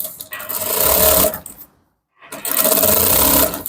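A sewing machine stitching a seam on an Ankara print trouser runs in two loud, steady whirring bursts of rapid needle clatter, separated by a short silent pause.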